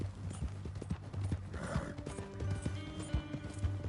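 Steady clip-clopping of horse hooves from a video game at a walking rhythm, close and clear, with a faint whinny-like tone partway through.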